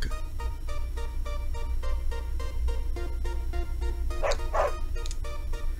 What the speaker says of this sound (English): Hey there, little doggy.